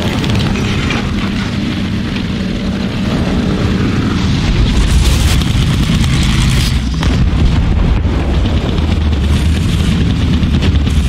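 A Panther tank blowing up in War Thunder, heavy booming explosions and loud rumbling blasts over continuous dense battle noise, with no voices.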